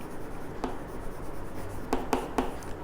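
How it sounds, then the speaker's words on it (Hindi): A pen writes by hand on paper near the microphone, a few short scratchy strokes over a steady low room hum, with no speech. "नेक्स्ट पॉइंट लिखेंगे हम लोग"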